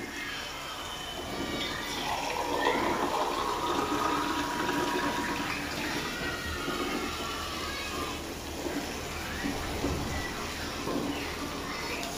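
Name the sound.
water being added to cooking pan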